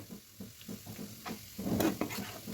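Bread slices fry and sizzle in a pan while being turned over, giving a soft crackle with light scraping and shuffling that grows a little louder near the end.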